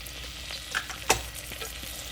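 Onions and garlic fry in a pot for rice and peas, giving a soft steady sizzle broken by a few sharp stirring clicks and one louder clatter, with no voices.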